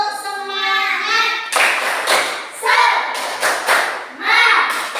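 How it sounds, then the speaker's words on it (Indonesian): A classroom of children performs the rhythmic Indonesian 'tepuk semangat' clap, sharp group claps in short patterned bursts with a teacher's voice between them, loud and close. "Kita tepuk semangat dulu agar anak-anak semangat belajar hari ini."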